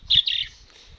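Pet budgerigars in a large cage give a quick, high, bright chirp, followed by a softer trailing twitter that fades within a second.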